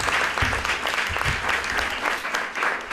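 Sustained applause from an audience at a Book Day ceremony in San Roque, dense steady clapping filling the whole stretch without a break.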